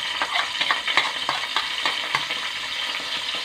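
Hot oil spatters and sizzles in a pan while garlic and ginger cook, a steady crackling hiss with quick popping bursts and faint stirring scrapes, close and alone.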